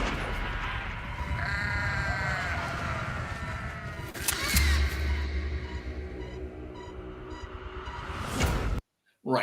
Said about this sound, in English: there's like one goat that's standing out here